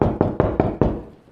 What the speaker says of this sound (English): a knock came at the front door in the night.